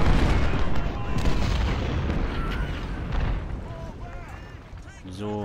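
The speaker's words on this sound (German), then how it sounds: "Visieren und feuern." Cannon artillery volleys in the Civil War strategy game Ultimate General: Civil War, a dense low rumbling barrage of booms rolling continuously and loudly, easing slightly toward the end, with brief tonal game sounds near the close.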